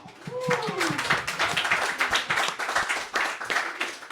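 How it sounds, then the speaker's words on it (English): Audience applause for the speaker's parents seated in the front row at a special evening event, a steady wash of clapping hands lasting throughout, fairly close and loud. "Second round of applause is for my parents in the front row"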